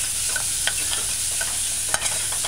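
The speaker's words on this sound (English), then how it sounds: "Stir it in, coating each shrimp evenly." Shrimp being stirred into a pumpkin curry stew in a pot, a steady sizzling hiss with soft scraping and small clinks of the spoon, close and continuous.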